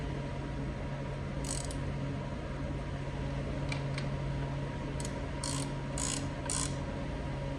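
A ratchet clicks in short bursts while tightening the bearing bolts on a John Deere 1025r tractor, heard over a steady mechanical drone, with several quick clicking runs spaced through the clip.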